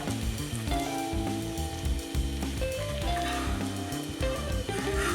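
Scrambled eggs sizzle and fry steadily in a cast iron skillet over lowered heat, a continuous close crackle running under background music throughout.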